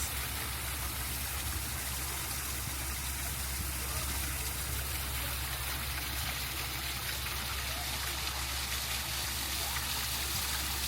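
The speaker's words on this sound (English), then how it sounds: "It'd be lovely to have that waterfall in my backyard." A waterfall at a safari park roars as a constant broadband rush of falling water, steady and fairly close throughout with no voices.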